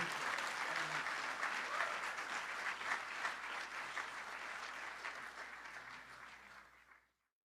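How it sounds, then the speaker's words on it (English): Steady clapping from an audience at a hockey hall of fame induction ceremony, honoring a girls' all-state hockey team, a dense, even roll of applause that holds for several seconds and fades out at the end. "a round of applause, please, for our 2023 Girls All-State First Team"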